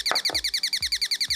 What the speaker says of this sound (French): un son plus caractéristique de l'oiseau qu'avec ce haut-parleur